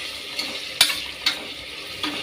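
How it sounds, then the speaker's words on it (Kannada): Mint leaves stir-fried in a hot pan for pilaf, giving a soft steady sizzle with a few short scraping stir strokes, close and fairly quiet, no voices. "ಒಂದು ಹಿಡಿ ಆಗಷ್ಟು ಪುದೀನ ಸೊಪ್ಪು ಇದ್ದೀನಿ ಇದನ್ನು ಚೆನ್ನಾಗಿ ಫ್ರೈ ಮಾಡ್ಕೊಳ್ಳೋಣ"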